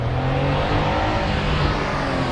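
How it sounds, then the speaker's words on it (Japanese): A kei car on a town shopping street revs hard, its small engine straining in a loud, steady, close roar with a droning low hum that holds for the whole stretch. "すげえ音だな、軽自動車。"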